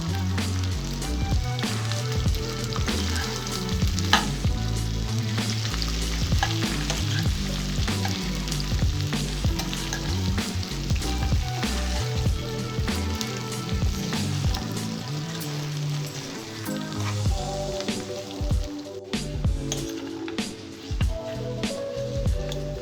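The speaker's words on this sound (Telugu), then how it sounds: "బెండకాయ ముక్కల్ని మూత పెట్టి సిమ్లో బాగా ఫ్రై చేసుకోవాలి." Okra (ladies finger) pieces with turmeric and curry leaves fry in a covered pan over low heat, giving a continuous steady sizzle and crackle with occasional stirring, mixed under a constant musical backing.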